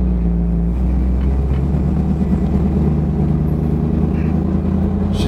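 1969 Chevrolet Camaro driving and swinging through a U-turn, a loud close V8 rumble with steady low throb and rising engine tones, no talk.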